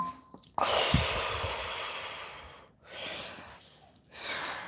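Deep meditative breathing, long slow breaths in and out, close and fairly quiet, with a soft airy rush on each inhale and a pause between breaths.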